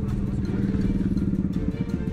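Motorcycle ridden by a teenage illegal street racer, its engine a steady close mid-pitched drone with faint clatter, under a voice talking.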